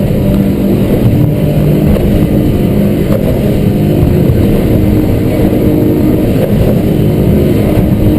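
A Stabicraft 2880 Pilothouse boat cruising under power produces a loud, unbroken roar of engine, water and wind, close and constant throughout, with no voices.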